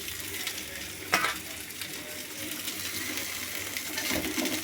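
Fried rice sizzles steadily in a pan under continuous stirring, with one sharper clank of a utensil early on and no voices.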